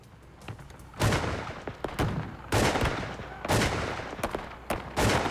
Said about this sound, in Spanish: A medida que el tiroteo continuaba